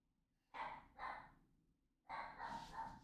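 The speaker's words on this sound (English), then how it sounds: "why is my dog barking?" Indoor pet dog barks faintly at a distance, two quick barks and then a longer run of rougher barks, with no one talking.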